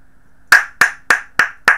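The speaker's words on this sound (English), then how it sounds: "I fucking applaud you." Five sharp, isolated hand claps in a slow, even rhythm, close and loud against a quiet background, with no talking.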